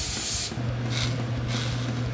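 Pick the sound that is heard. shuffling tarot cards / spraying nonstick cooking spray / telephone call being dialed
spraying nonstick cooking spray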